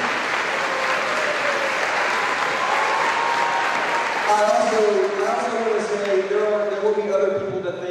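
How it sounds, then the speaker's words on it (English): Byron Nelson High School awards ceremony audience applauds senior officers as they stand, a loud sustained wash of clapping that thins into a few scattered claps near the end. "let's give them a round of applause"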